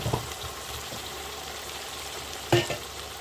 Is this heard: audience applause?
no